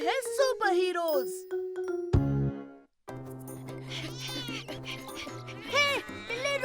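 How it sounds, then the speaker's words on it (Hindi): Cartoon cat meowing in a series of high, drawn-out yowls and mews, close and loud, broken by a chime and a short pause before more meows over lively background music. "हे बिल्ली, रुक जा"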